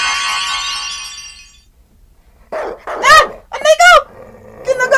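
A dog in a radio drama barks in several sharp, close bursts that rise and fall in pitch, mixed with growling, after a fading electronic tone and a brief pause.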